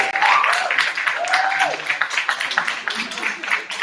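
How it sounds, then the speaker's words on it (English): Audience applause and cheering at a poetry slam over a voice speaking through it, with clapping continuing steadily throughout. "Keep that round of applause going for Thomas."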